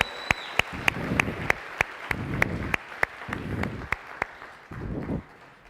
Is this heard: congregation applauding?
yes